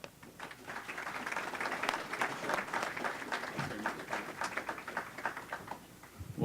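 An audience at a private land conservation talk bursts into steady applause, a dense patter of many hands clapping at moderate distance for several seconds.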